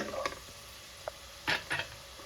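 Green chillies fry in a pan: a faint, low sizzle sits underneath while a few short scraping stir strokes stand out, and no one talks.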